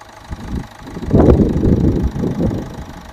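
A Toyota Etios GD diesel car sits idling close by, its engine giving a steady, throbbing rumble with a slight knock that grows a little louder midway, with no speech over it.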